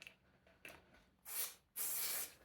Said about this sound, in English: I am going to spray the glue over the pot